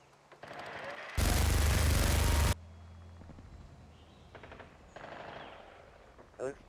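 A turret in Modern Warfare 2 fires a loud, dense burst of rapid gunfire lasting over a second, followed by quieter game sounds and a few softer bursts as people talk.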